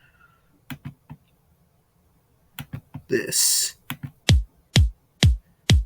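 Drum and bass kick drum without effects, four dry, even thumps at the end, following a voice and some clicks and a short hiss.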